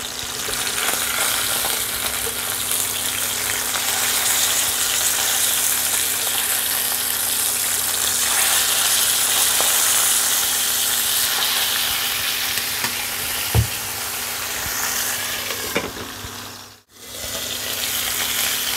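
Pomfret fish frying in mustard oil in a kadai, a loud continuous close sizzle with stirring noises, one sharp knock near the end and a short drop in the hiss before it resumes.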